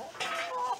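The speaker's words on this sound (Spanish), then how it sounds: "es una gallina grande más o menos" A big cinnamon-colored hen gives a short cluck, close and clear, lasting under a second.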